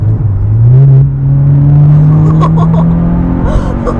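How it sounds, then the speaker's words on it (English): A Subaru BRZ track car's engine revs up sharply and holds a high, droning pitch, very close, with faint voices near the end. "it actually loves being revved high, like higher than I would normally think"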